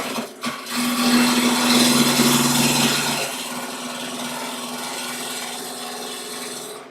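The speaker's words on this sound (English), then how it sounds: "just create a cylinder by using chisel blade" A woodturning chisel cuts a spinning wood cylinder on a lathe while roughing a bud vase, a loud continuous scraping hiss over a steady motor hum that eases to a softer, even cutting sound.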